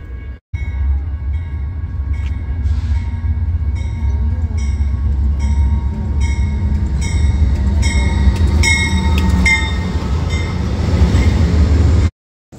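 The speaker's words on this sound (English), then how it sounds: "Flagstaff train Southwest Chief is arriving only about 10 minutes late." An Amtrak Southwest Chief passenger train arriving at Flagstaff station rumbles along with a low, heavy roar and clanking, rhythmic rail noise, loud and close, continuing steadily before cutting off abruptly.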